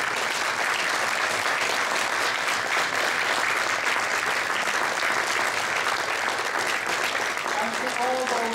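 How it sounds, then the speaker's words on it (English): A hall audience gives a sustained round of applause for a men's support network at an event, the clapping dense and even from start to finish. "Could I ask for a round of applause for the Men's Development Network?"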